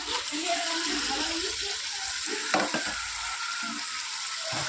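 Chicken pieces go into a pan of masala gravy, setting off a steady frying sizzle with some stirring clatter and a brief sharper burst partway through, and faint speech underneath.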